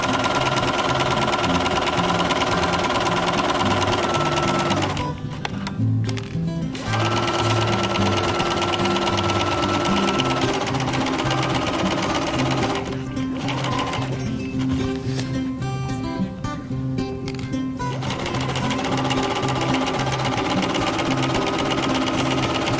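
A sewing machine stitches fabric with a loud, steady mechanical whir and rapid needle rhythm that runs throughout, briefly easing and changing pace twice as it reverses a few stitches and goes forward again.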